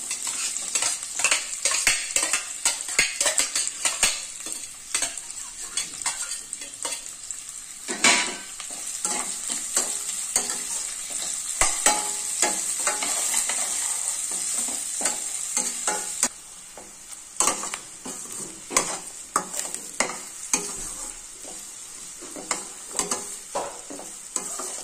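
Onions sizzle in hot oil with cumin, mustard seeds and chana dal while a metal spoon scrapes and clinks against the pan in frequent, irregular strokes, loud and close with no voices.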